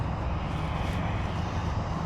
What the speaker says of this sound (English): plane coming in over here